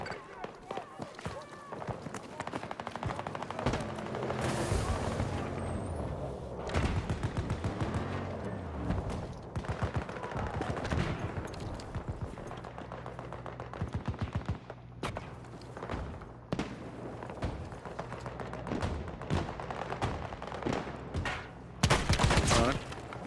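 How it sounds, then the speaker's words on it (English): Dense gunfire crackles almost nonstop in a Battlefield 2042 match, with rapid bursts and a heavier volley near the end. A voice speaks over the shooting. "Oh, someone is shooting at me."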